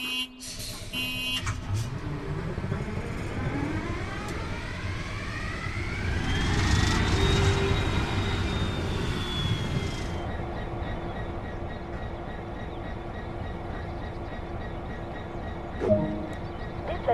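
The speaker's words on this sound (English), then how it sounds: "Use the engine start button on the desk, then wait for the engine to get running" A diesel locomotive engine in Train Sim World: Great Western Express cranks and starts up from a desk start button, rumbling and building with a rising whine before settling into a steady idle.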